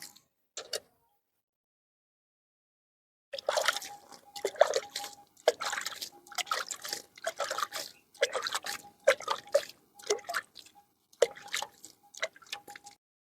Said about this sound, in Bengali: দেখো জল দেওয়ার ফলে কেঁচো সারগুলো ভিতরে চলে যাচ্ছে।